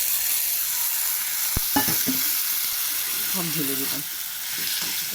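Grated potato stirred and fried in a pan for a shrimp, potato and egg stuffing, a continuous bright sizzle with a few scrapes and knocks of the spatula and a brief murmur of voice.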